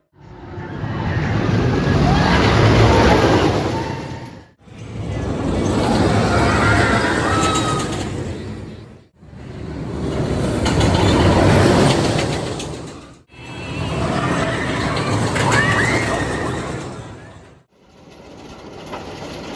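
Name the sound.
Twisted Timbers roller coaster ride at Kings Dominion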